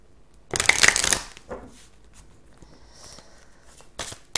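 Oracle deck being shuffled and drawn, a loud riffle of cards up close followed by softer sliding and flicking sounds as cards are pulled and laid down, with no talking.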